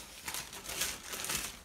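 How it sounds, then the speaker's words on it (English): A plastic bag crinkles faintly at close range in short, soft rustling bursts as it is fitted beneath a spot on a concrete header about to be drilled, with no talking. "So I put a plastic bag underneath where I'm drilling, and catches most of the dust."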